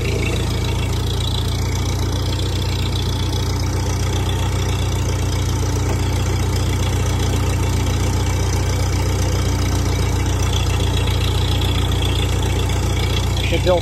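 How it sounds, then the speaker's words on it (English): A vehicle engine idles along steadily while crawling slowly in low-range first gear, giving a constant low rumble that fills the whole stretch without a break. "Thing goes quite slow in first gear, eh?"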